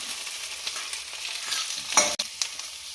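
Vegetables sizzle softly in a pressure cooker for biryani while a spoon stirs them, with a few scraping strokes over the steady frying hiss.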